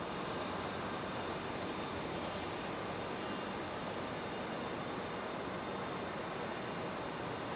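A jet airliner departs Raleigh Durham airport in stormy weather, its distant engine roar a steady, fairly quiet broadband rumble that stays even from start to finish.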